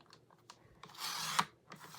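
Paper is snipped off the top of a vintage-style layered craft tag, giving a short burst of close, crisp cutting and rustling with a few light taps before and after.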